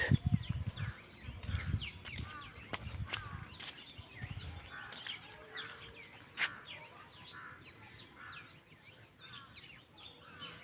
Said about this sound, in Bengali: চারোদিক দিয়ে খালি পাখি ডাক